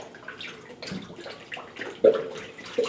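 Full-strength antifreeze coolant glugs and splashes into a funnel on the radiator of a 1963 Chevy C10 with a 454 engine, poured in uneven close bursts with no talking.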